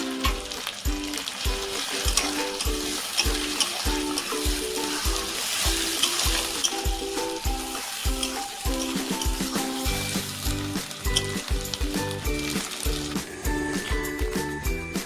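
Chicken masala with chopped tomato fries in a pan, a dense, steady sizzle close up with a regular scraping rhythm from stirring throughout.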